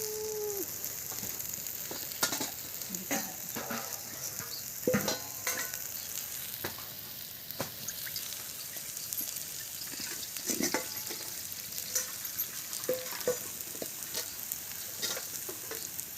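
Besan cooking in a pan over a chulha with water being added, sizzling and bubbling steadily with scattered stirring clicks and scrapes, moderately loud and close, no talking.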